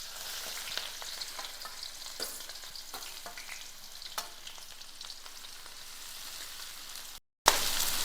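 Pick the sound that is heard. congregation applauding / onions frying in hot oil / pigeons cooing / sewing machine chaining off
onions frying in hot oil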